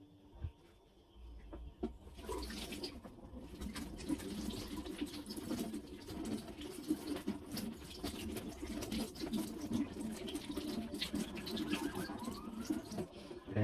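Water runs steadily from a tap over meat being washed, with splashing and soft handling sounds, faint background noise from a nearby public road, no speech.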